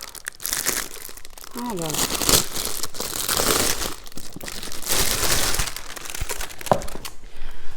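Plastic packaging crinkles and crackles continuously as a diamond painting storage case is opened, loud and close, with someone speaking French over it.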